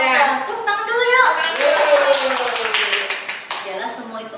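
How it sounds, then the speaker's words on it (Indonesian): Young children at a Sunday school session clap their hands together in a loose patter while an adult voice talks over them and children sing or call out. "Tepuk tangan dulu yuk."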